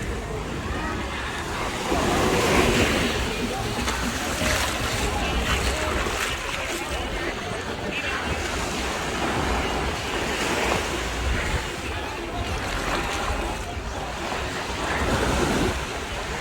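Surf at Peña Blanca Beach in Aguadilla, Puerto Rico, rolls in as a broad, continuous wash of breaking waves, swelling a few times, mixed with wind buffeting the microphone close by.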